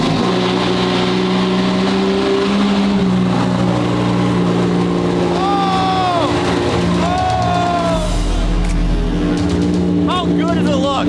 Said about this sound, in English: How loud is that car? It's very loud.